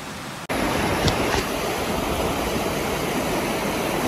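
Creek water at Ribbon Creek near Mt Adams rushes in a steady broadband roar, loud and close, too deep for horses to cross, with no talk over it.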